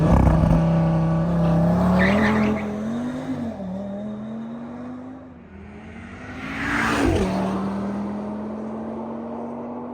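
An updated Audi RS3 pulls hard on a racetrack, its engine note climbing steadily and loud from close by, with a brief dip at a gearchange before the revs build again.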